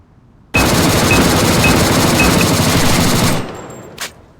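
A SCAR-L F.Serpent rifle in A.V.A fires one loud, sustained automatic burst of about three seconds at close range, then cuts off with a brief echoing tail and a last faint clink.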